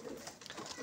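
An old Iraqi pigeon gives a brief, soft coo, faint and close, heard alone in under a second.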